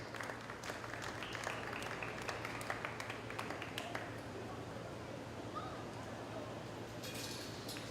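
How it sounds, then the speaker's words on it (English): Audience applause for the children at a county fair swine show, a steady wash of clapping from a crowd that lasts several seconds and slowly thins, with some voices mixed in. "let's give all these kids one more great big round of applause"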